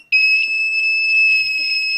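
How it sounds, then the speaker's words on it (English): A breadboard buzzer in a pulsed LED circuit with poor connections emits a loud, steady high-pitched electronic tone that starts abruptly and holds for about two seconds, with faint crackles underneath. "Sorry about the buzzer, it's the connections to the breadboard are not good."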